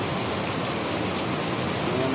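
Heavy rain pours down in Subic Bay during a typhoon after four days of downpour, a dense, steady, loud roar of drops with no break.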